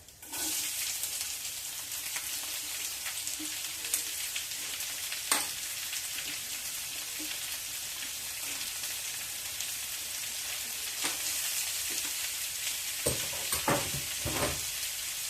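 Chopped onions and green chillies fry in hot tempering oil for an egg and garlic chilli dish, with a dense, even sizzle throughout and scattered stirring clinks that cluster toward the end.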